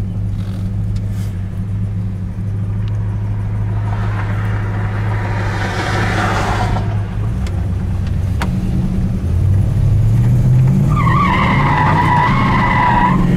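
A 1967 Plymouth Sport Satellite with a 383 engine drives with a steady low engine drone and tire noise inside the cabin, the engine note rising as it accelerates near the end.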